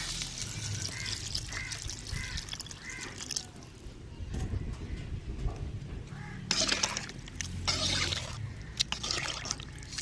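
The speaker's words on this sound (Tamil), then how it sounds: "நம்ம கரைச்சி வச்ச புளியும் சேர்த்துக்கிறோங்க." Dissolved tamarind water is poured into a pan of onion, tomato and eggplant frying in oil, making a close splashing trickle over a sizzling background with occasional light clinks of utensils.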